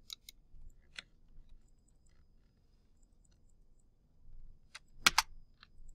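Keys on a computer keyboard are tapped while entering a spreadsheet IF formula: sparse, quiet keystrokes with a few isolated taps early on and a short quick cluster near the end, against a near-silent room.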